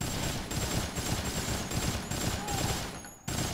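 Rapid gunfire rattles in the video game Dead Rising, with a dense, continuous stream of close shots that stops abruptly near the end.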